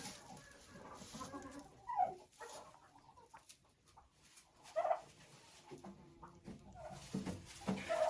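Hens in a coop cluck in short scattered bursts, a few louder calls standing out over a low background of farmyard noise with no talk.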